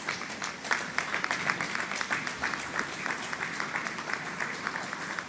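Audience members at a health conference clap in a moderate, steady round of applause, with individual claps audible at a slight distance and no speech.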